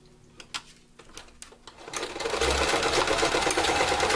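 A sewing machine stitches a zigzag on small doll clothes made from socks and ribbon, starting with a few slow clicks before running into a steady, fast mechanical whir.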